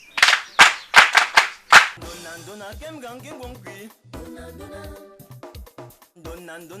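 Loud, sharp handclaps from a small group in a school setting, about five or six distinct bursts over the first two seconds, followed by singing voices and music.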